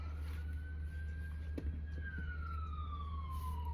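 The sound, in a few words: fire engine siren passing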